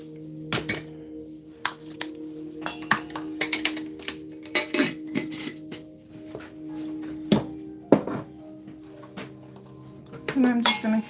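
Loose herbal tea blend with rose and oat straw being stirred in a container, giving repeated clinks and knocks of a utensil against the vessel in an irregular rhythm, close and fairly loud with no talking.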